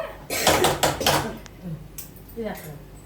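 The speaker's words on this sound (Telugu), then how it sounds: "మూత పెట్టి ఉడకనిద్దాం" A metal lid set onto a cooking pot, with a few clattering knocks and scrapes close by, then quieter handling; a voice speaks briefly over them.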